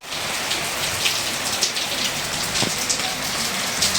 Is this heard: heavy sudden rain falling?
yes